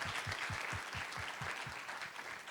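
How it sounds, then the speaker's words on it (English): An audience at a climate change resilience conference session claps for the speakers, a steady dense round of applause from a crowd filling the room, with a few louder claps close by. "I want to thank, a warm round of applause,"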